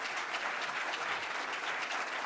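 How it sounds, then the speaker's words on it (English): An audience at a high school debate championship applauds the two finalists with a dense, steady patter of many hands clapping, moderately faint and heard alone. "let's have a big round of applause for both of our finalists."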